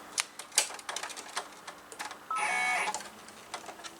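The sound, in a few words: embroidery machine stitching a placement stitch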